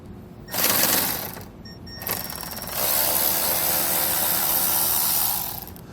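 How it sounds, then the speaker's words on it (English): Power tool backing out T15 grille bolts on a 2022 Chevrolet Equinox, a loud close whirring buzz in several bursts, with a brief run, a pause, then a longer steady spin. "there's 6 T15 bolts that's going to hold the front grille on. I'm going to go ahead and take these off."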